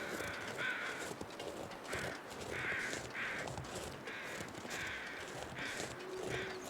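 Crows caw in the snowy wilderness of The Long Dark, a string of harsh calls in short bursts at an irregular rhythm, moderately distant and fairly quiet over a faint wind.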